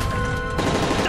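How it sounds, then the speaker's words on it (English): Gunfire from the Call of Duty Modern Warfare 3 presidential plane defense mission during turbulence: dense, continuous bursts of automatic weapon fire with a rumbling low end, loud and close throughout the brief moment. "That's gunfire!"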